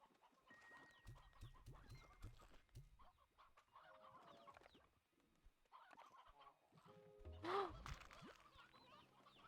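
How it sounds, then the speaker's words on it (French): Chicken clucking in the video game Slime Rancher 2, several short fowl clucks and squawks scattered over a busy, faint background of game sounds. "Faut que je prenne une poule avec moi."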